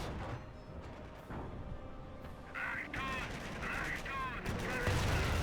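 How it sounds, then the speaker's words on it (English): A Hotchkiss tank in Company of Heroes firing away on the battlefield, with repeated sharp gunfire bursts and cannon reports amid ongoing war ambience, moderately loud and mixed with other combat noise. "got a Hotchkiss firing away"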